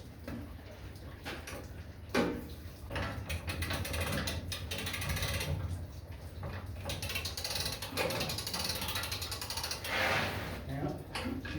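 Ratchet wrench tightening bolts on a Lister emergency fire pump engine, a continuous run of fast clicking ratchet strokes in bursts, close and fairly quiet, with little talk.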